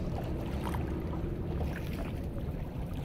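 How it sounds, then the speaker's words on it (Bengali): A boat moving on the sea at Patenga beach, with a low continuous rumble of engine and water wash plus wind buffeting, steady and close throughout with no talking. "সেখানে আমি চলে এসেছি নৌকা নিয়ে"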